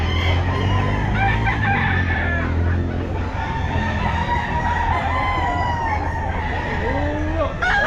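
Chickens at a busy pet market, with several birds clucking and a rooster crowing close by, repeated calls overlapping against steady crowd chatter and background voices.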